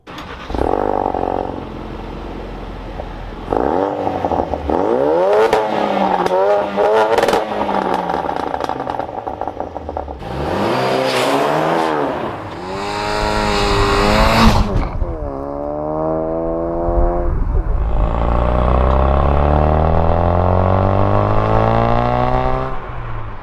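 A 2016 Ford Focus RS on 19-inch alloys with Michelin Pilot Super Sport tires drives on the road, its engine rising and falling through loud repeated revs and gear changes, with no talking.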